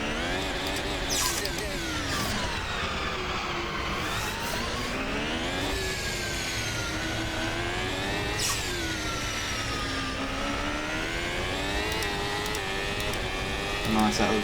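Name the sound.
F1 car engine on Monaco lap, from a racing video game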